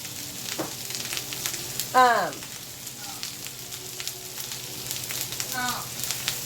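Eggs fry in a pan over a lowered flame, giving a steady close crackle and hiss. A brief voice cuts in near the start, and clinks and scrapes of a utensil sound here and there.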